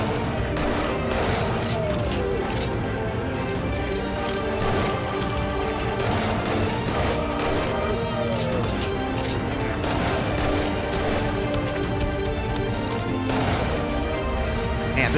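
Dense, continuous gunfire and crashing action from a shotgun fight in the zombie survival game 7 Days to Die, loud and steady throughout with repeated blasts layered together.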